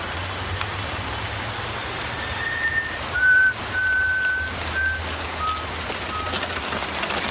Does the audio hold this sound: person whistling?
yes